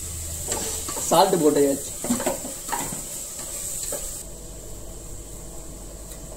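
Chicken frying in a pan is stirred with a spatula, soft scraping and clinks over a low sizzle, while people talk nearby.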